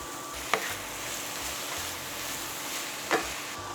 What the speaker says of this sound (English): I'm going to add my thawed broccoli to the pan and my rinsed carrots and let them cook until they're tender